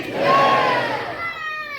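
A crowd at a Paghdiwala youth group social gathering in Surat shouts "Jai" in unison, one loud collective cry that swells quickly and then fades away.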